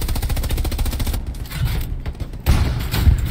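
Hull-mounted machine gun on a tank in the Hell Let Loose game firing rapid, steady bursts, with a pause and scattered reports midway before heavier, louder firing resumes near the end.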